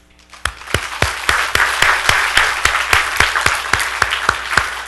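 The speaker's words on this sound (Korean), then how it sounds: "그런 의미에서 박수 한번 치겠습니다" Congregation at a youth retreat sermon claps together in rhythm, loud, evenly spaced unison claps over a dense wash of applause, starting abruptly after a quiet moment.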